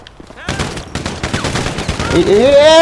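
Rapid bursts of GTA V gunfire crackle in a fast, dense stream, then a rising tonal whine takes over near the end.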